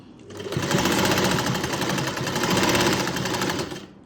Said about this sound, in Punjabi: ਹੁਣ ਆਪਾਂ ਐਦਾਂ ਹੀ ਸਲਾਈ ਲਗਾ ਲੈਣੀ ਹੈ ਇਹਦੇ ਉੱਪਰ ਉੱਪਰ